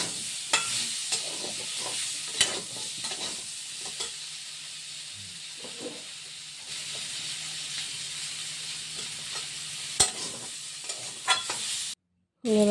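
Dal lentils frying in a hot pan for a potato-and-dal thali meal, with a steady sizzle under repeated scraping stirs and occasional sharp clinks of the spoon against the pan, close and fairly loud.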